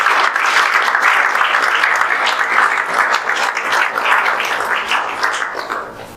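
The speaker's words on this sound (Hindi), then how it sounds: "जोरदार तालियां बजा दीजिए" A large audience at a coaching institute's JEE Main 2024 results celebration bursts into loud, sustained applause, a dense wash of many hands clapping that holds steady for several seconds before tapering slightly at the end.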